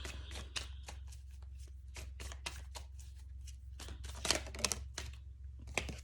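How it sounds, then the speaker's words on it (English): Tarot cards being shuffled by hand in a quiet room, a run of crisp riffling flicks and soft slaps with irregular rhythm, close and clear with no talking. "I'm going to shuffle a little bit more before I start talking about that card"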